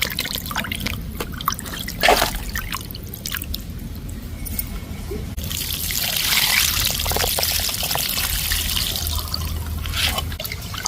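Water splashes and trickles as fish is rinsed by hand, with sloshing, drips and pouring sounds close by, no talking.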